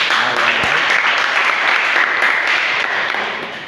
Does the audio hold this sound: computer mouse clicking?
no